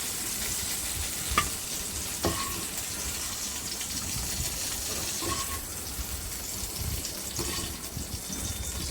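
Tamarind frying in oil for a green chilli, tomato and groundnut pachadi, a steady close sizzle and hiss with occasional stirring scrapes and a few sharp clinks.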